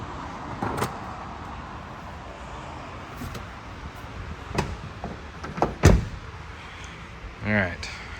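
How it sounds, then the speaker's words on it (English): A 2019+ Ford Ranger door shut gently, a soft muted thud among quieter clicks and outdoor background rumble, with no talking. "close the door gently"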